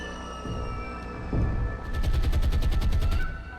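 Bombs dropping and striking in the naval video game War on the Sea: a couple of dull thuds, then a rapid, loud string of booming impacts that stops abruptly.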